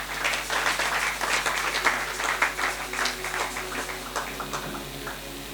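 Church congregation applauding: steady, dense clapping from many hands filling the room, continuous and fairly loud, with faint voices mixed underneath.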